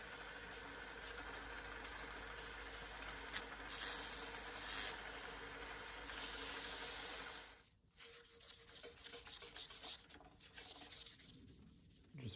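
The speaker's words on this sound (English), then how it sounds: "I'm just gonna level this out with some 600 grit." A CA-finished knife handle on a handmade marking knife is sanded level with 600 grit sandpaper, giving a close, continuous scratchy rubbing that pauses briefly and then resumes in shorter strokes.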